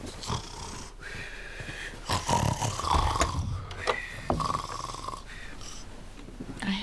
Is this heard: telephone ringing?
no